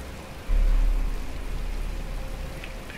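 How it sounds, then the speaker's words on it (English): Rain falling in the video game Batman: Arkham Asylum, a steady hissing downpour with a low thump at the start, continuous and fairly loud with no talking. "But it's starting to rain."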